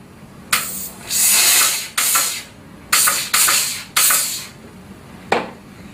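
Water spritzes from a spray bottle onto a fabric stain in a series of short, sharp hissing bursts, six or so with uneven gaps, close and fairly loud.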